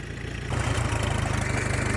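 A 1938 Farmall F-20 tractor engine pulls away in its high road gear, a steady low throbbing chug that grows louder after a brief quieter idle, close up with no talking.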